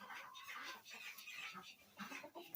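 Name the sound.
rooster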